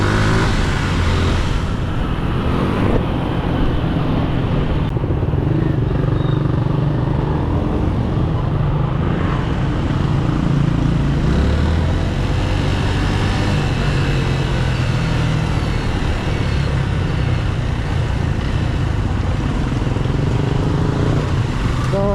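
Heavy road traffic in Puerto Princesa, with cars and motorcycles droning steadily close by and engines revving now and then, loud and continuous throughout.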